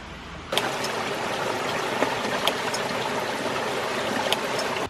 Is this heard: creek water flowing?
yes